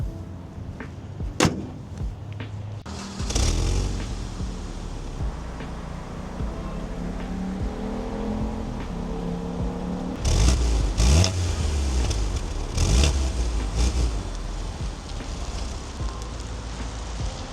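A 2008 BMW Z4 Roadster 2.0i with the four-cylinder engine cranking and catching into a steady idle, with a couple of sharp clunks like a door or hood early on and revving bursts later, recorded outdoors in cold January weather.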